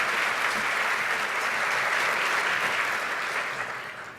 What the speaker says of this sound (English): please, a round of applause for the incredible host committee that helped put this on today